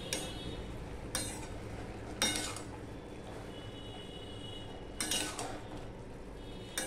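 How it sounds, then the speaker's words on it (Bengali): Vegetable curry being stirred in a wok (kadai), with faint scraping and occasional sharp clinks of a spoon against the metal pan at irregular intervals over a quiet background. "আবার তরকারিটা সম্পূর্ণটা মিশিয়ে দিচ্ছি"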